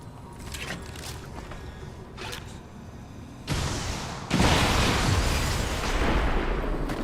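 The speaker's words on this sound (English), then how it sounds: "Rocket the general? I think we rocket the general." A rocket explosion in the XCOM 2 video game, with a sudden loud blast followed by a second, heavier burst and a sustained rumbling roar, after a stretch of quieter game sounds with brief clicks.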